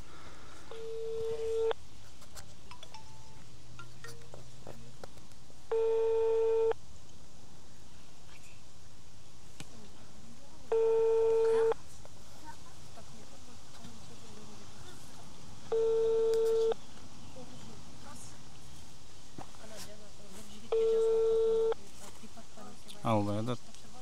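A telephone busy signal repeats five times in regular short tone bursts about five seconds apart, faint against quiet room noise, with soft voices in between.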